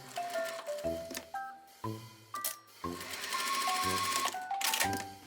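A sewing machine stitches a balloon skirt seam in short bursts, its motor whirring and needle tapping up close with changing pitch, pausing briefly between runs.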